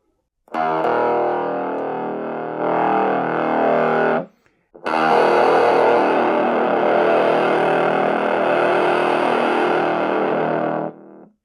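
Heavily fuzzed, distorted guitar plays in two loud sustained passages separated by a brief pause.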